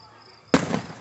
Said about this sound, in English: He's got a badass fireworks show.